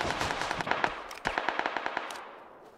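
Rapid bursts of automatic gunfire from a PUBG match on a snowy map, a quick rattling string of close shots that thins out and fades toward the end.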